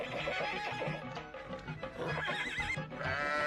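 A horse gives a loud, wavering whinny near the end, over dense farmyard noise with faint hoof knocks through the clip.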